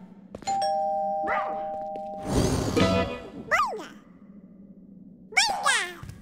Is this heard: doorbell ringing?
yes